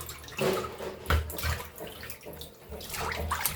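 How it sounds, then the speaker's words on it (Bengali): Fish being washed by hand in water, with splashing and sloshing that swells in bursts around the start, middle and end, close and moderately loud. "মাছগুলো ভালো করে ধুয়ে রাখবো"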